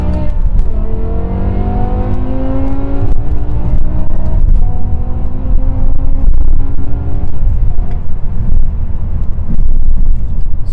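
A 2007 BMW E63 M6 V10 revs hard under full acceleration, its engine note climbing in rising harmonic sweeps through the gears, loud and continuous with some wind noise and no talk.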